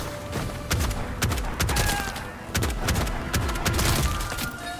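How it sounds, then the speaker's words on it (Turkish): Shotgun blasts in the game Bright Memory Infinite ring out in a steady run of heavy, booming reports, each landing roughly every half second amid a dense, continuous wash of game noise. "Abi biraz pompalıyla gidelim."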